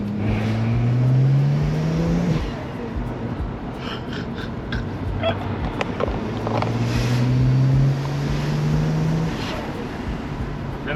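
A BMW 335 engine drones while driving, with the pitch rising through the revs and then falling back between gear changes, all under heavy wind and road noise inside the car, with no talk.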